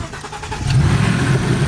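A Ford Shelby GT500 with a supercharged 5.8 liter engine starts up, a brief crank catching into a loud, steady rumble close by with no talk over it.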